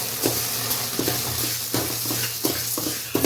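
Spices, chili powder and salt fry in a pan for majjige saaru, producing a continuous loud sizzle broken by regular scraping clinks of a spoon as the mix is stirred.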